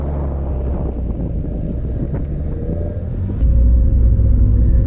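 A Renaultsport Clio 172 Cup hatchback drives steadily with a deep, continuous engine rumble and road noise, growing slightly louder near the end.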